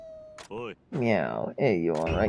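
Cartoonish cat meows from the samurai-era game Like a Dragon: Ishin!, three rising-and-falling mewing calls in quick succession, clear and close, with no talk over them.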